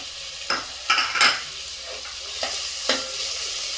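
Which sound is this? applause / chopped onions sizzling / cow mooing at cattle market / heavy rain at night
chopped onions sizzling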